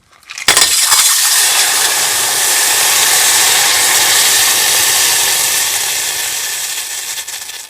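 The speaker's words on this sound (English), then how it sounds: "take ice cubes and set them in a hot pan" Ice cubes dropped into a hot pan give a sudden sharp crackle, then a loud, steady hissing sizzle that fills the rest of the moment and slowly eases off. Nobody speaks.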